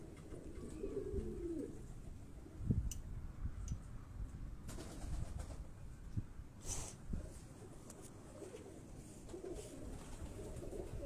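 A pigeon, a Karachi rooftop bird, coos softly now and then over a steady background hum, with a few faint bird calls.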